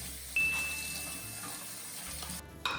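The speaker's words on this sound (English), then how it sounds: "Don't forget to wash your hands." A running kitchen tap while hands are washed, a steady soft hiss of water with a brief ding near the start, quiet and close.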